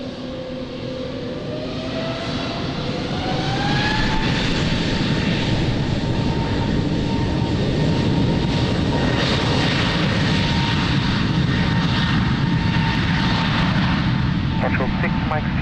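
An aircraft takes off on runway 02 at Lisbon Airport, its engines rising into a loud, sustained roar with a climbing whine, while a voice talks over the noise throughout.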